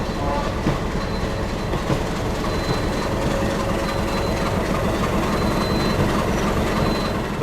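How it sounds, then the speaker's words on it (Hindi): A Somnath–Rajkot passenger special metre-gauge train runs on the Junagadh route through the Gir forest, giving a loud, steady rolling rumble with faint squealing tones. It is close and continuous throughout, with no talk. "Somnath Rajkot passenger special."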